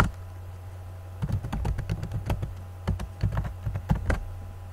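Typing on a computer keyboard into a web browser, a close run of crisp key taps in quick irregular bursts with short pauses between, over faint steady background hum.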